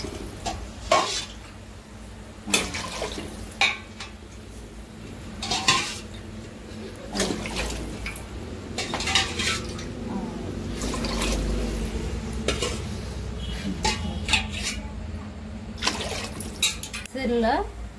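Water is poured from a glass into a cooking pot for basmati rice biryani, heard as splashing and trickling amid clanking pots, utensil knocks and stirring in a busy kitchen, with some talk.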